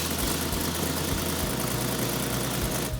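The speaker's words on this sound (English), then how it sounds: "When we got the fuse in it and I hit the key, it was just like the first time it started right up." A car with a factory sunroof, just back running after a fuse was replaced, idles steadily with a low, even engine rumble and slight vibration, close and continuous with no voices.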